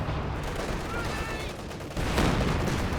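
A T-34 tank fires on a machine gun position in the strategy game Company of Heroes 2, a dense, loud volley of gunfire and battle noise that grows heavier near the end.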